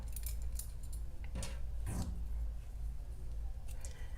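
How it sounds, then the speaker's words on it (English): Scissors snip through crochet yarn with a few short, crisp cuts spaced apart, close and fairly quiet over a low background hum. "cut your yarn"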